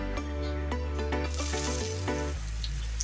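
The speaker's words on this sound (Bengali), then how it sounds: "শুকনা মরিচটা হালকা কিছুক্ষণ একটু ভেজে নেব।" Dried red chilies fry in oil in a pan, giving a steady sizzle that runs continuously for several seconds, close and fairly loud, with a few light tonal clinks over it before it thins out toward the end.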